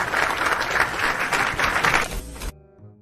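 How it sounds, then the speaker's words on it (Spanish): A burst of crowd applause plays as a sound effect, thick continuous clapping that cuts off abruptly, leaving a short faint tail. "Se merece estos aplausos y más."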